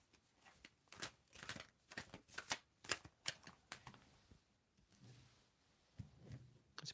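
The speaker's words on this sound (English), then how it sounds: "You need to tell me when to stop shuffling." A deck of tarot cards is shuffled up close in a quick series of crisp, fluttering riffles and slaps that gradually slow and soften.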